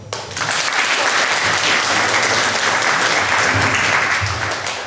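An audience at a beauty pageant applauds, a dense, loud burst of clapping that starts abruptly and holds steady for several seconds before easing off at the end, with no talk over it.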